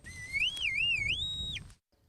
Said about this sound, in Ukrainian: Крок за кроком сапер йде з металошукачем. Дотримуємося безпечної відстані, перевіряємо наявність сигналів.